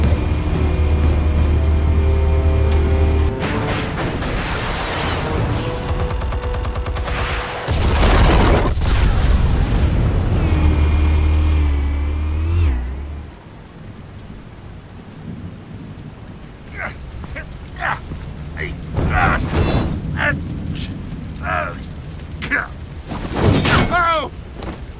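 Explosives fire in a Batman game. Heavy rolling booms and rumbling blasts fill the first half, then sharp bursts of gunfire crack out over a quieter, noisy background, with speech in places.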